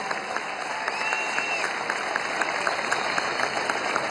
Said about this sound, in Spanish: Un aplauso a estos dos camaradas